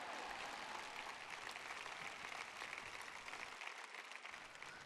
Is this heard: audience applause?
yes